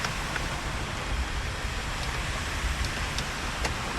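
Heavy monsoon rain floods potholed streets in Jammu, a steady dense hiss of downpour on water and pavement that holds at a constant loud level throughout, with no voices.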